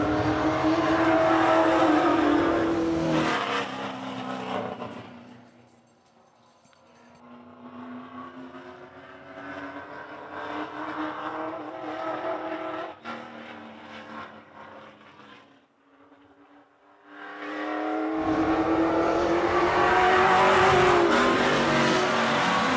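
A WESCAR late model race car roars past during qualifying time trials at Hythe Motor Speedway, engine loud and close, fading as it travels around the track, then surging loud again on the next pass.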